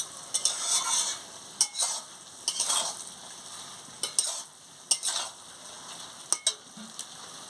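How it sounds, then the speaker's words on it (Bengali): Papaya curry being stirred in a pan after garam masala goes in: repeated sharp scrapes and clacks of a spoon against the pan in uneven bursts over a low sizzle, close by with no talking. "গরম মশলাটা দিয়ে ভালো করে নাড়িয়ে নিচ্ছি।"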